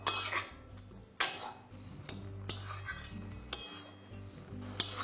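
Melted jaggery stirred in a pan over medium flame while making dudh puli pitha, with a utensil scraping and clinking against the pan in several sharp bursts between quieter rubbing, close and clear.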